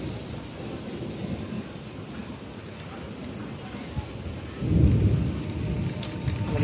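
Steady rain hisses outdoors near a house while low thunder rumbles through, swelling into a louder, closer roll near the end before easing back into the continuous downpour.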